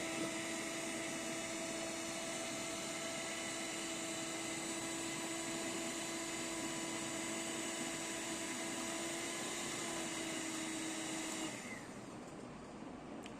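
A Keimav HE-133 electric hand mixer running at high speed makes a steady, close, high-pitched motor whine that holds evenly for about eleven seconds, then cuts off and winds down.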